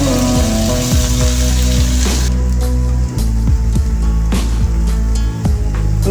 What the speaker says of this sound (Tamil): இதை நல்லா சேர்த்து வதக்கிக்கலாம்.